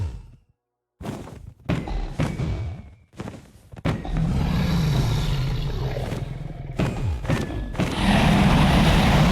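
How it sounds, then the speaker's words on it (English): Dragon in a Minecraft modpack game letting out a loud, sustained roaring rumble, broken at first by thuds and gaps, then swelling into a continuous heavy roar near the end. "Yes, we hear you, dragon. You're very loud."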